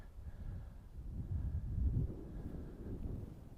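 Strong wind gusting across an open disc golf course at Ogeechee Crossing, a low rumbling buffet on the microphone that swells and eases, with no talk.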